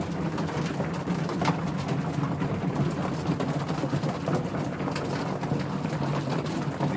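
Racing homer young pigeons in a loft give a steady, low murmuring coo that runs through the whole stretch, with soft rustles and scattered flutters over it and no talk.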